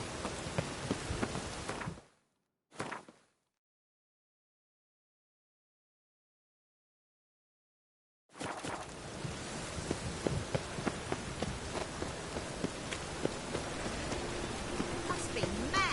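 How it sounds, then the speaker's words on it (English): Heavy rain pours in a PS4 video game, a dense steady hiss of drops that cuts out into silence for several seconds before returning at full strength. "Must be mad running around in this rain."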